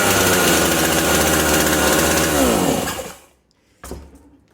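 A chainsaw engine starts after a pull on the starter cord with the throttle lock engaged and the choke open. It roars loud and close, then cuts out, and a brief second burst follows.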